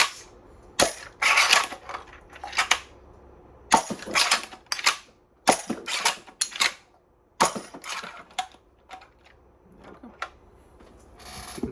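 Battle Axe pump-action toy shotgun dart blaster being primed and fired, a series of sharp snapping shots and plastic pump clacks in irregular bursts, close and fairly loud.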